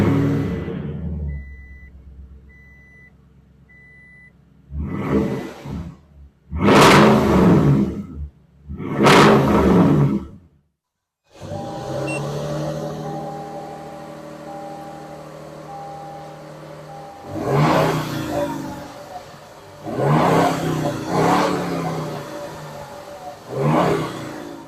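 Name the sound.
Toyota Tundra TRD Pro V8 engine revving through dual exhaust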